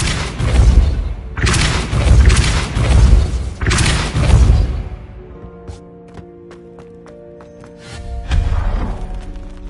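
Depulso force spell cast in Hogwarts Legacy: a series of deep, loud booming thuds with a crashing burst, then quieter tonal magical shimmer and a final rumbling blast.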